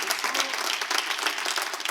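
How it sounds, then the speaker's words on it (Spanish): A church congregation claps together in worship, a brisk, even wash of applause that stays fairly soft and continuous throughout. "dale tu mejor aplauso al Rey de Reyes"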